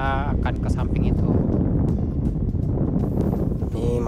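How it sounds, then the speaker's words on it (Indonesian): Strong, steady wind buffets the microphone on a city street in Mito, Japan, a continuous low roar lasting throughout, while someone talks over it. "kalau dari teman-teman dengar suara angin, karena memang lagi kencang banget anginnya"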